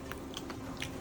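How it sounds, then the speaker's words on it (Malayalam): Crunchy fried murukku is chewed close up, giving a few sharp, crisp crunches in quick succession over a quiet background. "മുറുക്കിന്റെ ഒച്ച കേൾക്കുന്നുണ്ടോ?"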